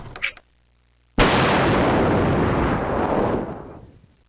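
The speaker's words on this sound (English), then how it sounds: "I'm just gonna blow up the house." A house blowing up in one sudden, loud explosion that hits hard after a short quiet gap, then a dense rumbling roar that holds for a few seconds before fading out.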